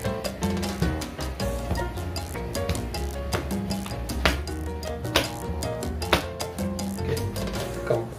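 A deck of playing cards being mixed during a card trick, a busy run of crisp riffling and slapping flicks repeating steadily and close up, with no talk.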